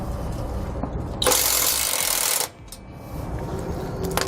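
Bolts and nuts on a truck frame loosened with a 15mm socket and a 13mm wrench, a continuous mechanical whir that rises in a loud burst for about a second before settling back to a steady rattling drone.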